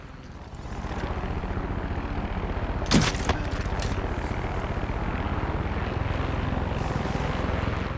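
A helicopter in the Far Cry 5 video game flies close by with a steady, loud rotor thump and engine drone throughout, broken by a brief sharp burst midway.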